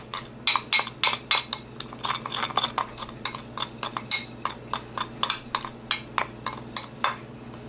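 Spoon stirring blended rice in a bowl, a steady run of close, quick clinks and scrapes against the dish in an uneven, busy rhythm, with no talking.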